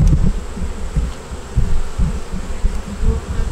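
Honey bees buzz around their hives in a dense, steady drone, close and continuous, with low rumbling bumps beneath the hum and no voices.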